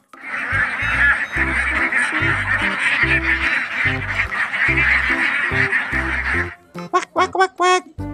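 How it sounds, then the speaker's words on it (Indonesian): A toy duck quacks in quick, loud, repeated bursts over a low, steady musical thump, then a few separate squeaky honks follow on their own near the end. "Wadidaw, ternyata ini hewan bebek."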